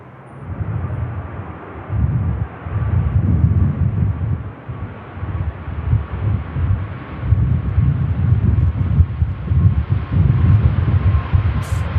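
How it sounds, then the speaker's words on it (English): A Ryanair airliner lands in a crosswind, a broad, steady jet roar with gusty wind buffeting the microphone, rising and falling slightly over the whole stretch. "Ryanair handling the crosswind really well"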